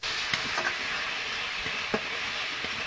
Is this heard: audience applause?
no